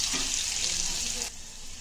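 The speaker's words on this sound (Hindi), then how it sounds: "प्याज नरम हो गया कि पानी डालेंगे।" Water goes into a hot pan of softened onions, a loud bright hissing rush that lasts just over a second and then drops off abruptly to a quieter simmering sizzle.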